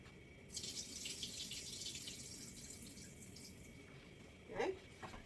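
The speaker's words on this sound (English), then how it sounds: "I'm going to pour some of the liquid off" Cooking liquid is poured off vegetables in a pot, a steady, faint watery trickle that runs for several seconds before a brief louder splash near the end, with no talk.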